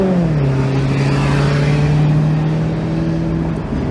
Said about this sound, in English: Let's throw this thing in manual mode to keep those exhaust valves open, and let's take this thing for a little cruise.